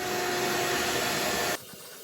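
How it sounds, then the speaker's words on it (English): A vacuum cleaner drones steadily and loudly while working on matted car carpet, a continuous whooshing whine that cuts off abruptly near the end, leaving quiet room tone. "It did take quite some time to get this one section vacuumed, but it wasn't because the vacuum wasn't picking it up."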